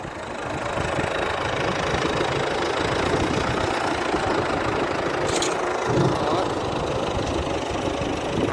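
A tractor engine runs steadily on a farm in cold weather, a continuous, loud low rumble with a knocking idle throughout, and voices talk faintly over it.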